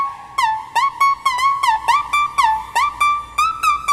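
A bright synth lead plays a rhythmic run of short notes that slide and bend in pitch, clear and close with no voices.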